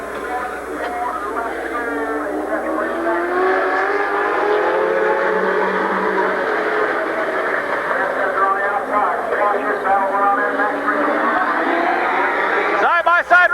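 Race cars at a short-track speedway in 1992 roaring down the backstretch, a continuous loud engine drone with a slowly shifting pitch under steady commentator speech.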